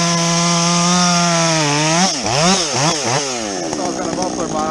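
A muffler-modded Husqvarna 562XP chainsaw bucking a recently felled tree: a loud, close, buzzing engine note that holds steady, then dips and surges as the throttle and cut load change.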